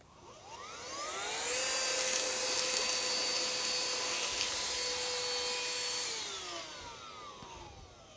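A small XREXS cordless handheld vacuum spins up to a steady high whine, holds it for several seconds while sucking up nuts and debris, then winds down, close and alone.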